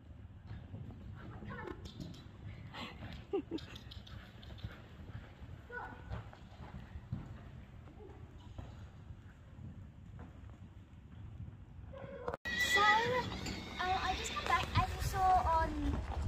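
A pony's hooves thud in rhythmic clip-clop beats across an outdoor show jumping round, under wind-like rumbling and a voice, growing louder and harsher near the end.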